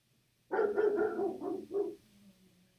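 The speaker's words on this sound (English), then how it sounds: "That dog." A dog gives a quick series of about four barks in succession, close and fairly loud, the last two shorter and yappier, followed by a faint whimper in an otherwise quiet room.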